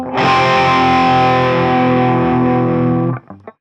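Loud distorted electric guitar with effects, a sustained chord held for about three seconds with the whammy bar pressed by thumb, giving a slightly hollow wavering tone before it cuts off.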